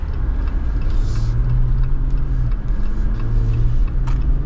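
A Jeep Wrangler Black Ops with a V6 engine and bigger tires drives along with a steady, loud engine rumble and road noise, heard from inside the cabin, with slight rises in revs and no talk.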